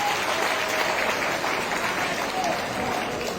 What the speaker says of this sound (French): On acclame notre champion avec des cris de victoire